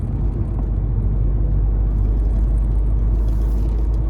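Steady low engine and road rumble from inside a Fiat Egea Cross 1.6 with a 130 hp manual gearbox as it climbs a hill in fifth gear, a continuous close drone with tyre and wind whir and no talking.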